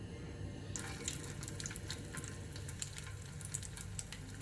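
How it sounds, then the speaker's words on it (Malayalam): Dough balls frying in hot oil over a low flame, a soft, steady sizzle with scattered small crackles and pops, fairly quiet, with no talking. "ഓയിൽ ചൂടായി ലോ ഫ്ലെയിമിൽ വെച്ചിട്ട് നമുക്ക് ഇതൊന്ന് ഇതേപോലെ വറുത്തെടുക്കാം."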